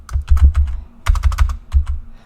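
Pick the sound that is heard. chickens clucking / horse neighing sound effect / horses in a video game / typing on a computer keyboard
typing on a computer keyboard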